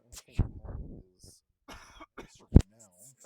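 A person speaks briefly, interrupted by two sharp coughs, one early and a louder one near the end, close to the microphone.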